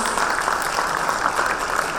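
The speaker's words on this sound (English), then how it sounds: "please let's give them a louder round of applause" An audience claps for an investor panel at a private equity and venture capital event, a sustained, fairly loud roomful of applause with a dense, even patter and no speech over it.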